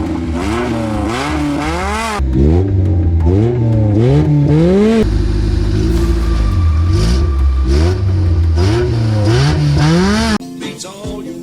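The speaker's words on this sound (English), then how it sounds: "So all that's left is a burnout." A 1983 rear-wheel-drive Honda Civic engine revs hard for a burnout, its pitch climbing and falling in repeated loud surges. The revving ends abruptly near the finish, and clatter follows.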